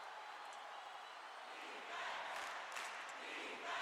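A football game crowd cheers from a distance, a faint, steady roar of fans that swells slightly partway through.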